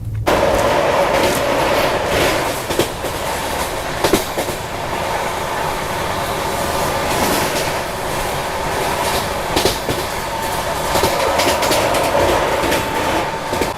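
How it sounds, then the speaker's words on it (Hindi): A Delhi–Howrah Rajdhani Express train runs steadily at speed with a continuous loud rumble, broken by occasional clacks from the wheels passing rail joints. "अभी अपनी ट्रेन ओवरटेक करने वाली है योगनगरी ऋषिकेश हुबली वीकली एक्सप्रेस को।"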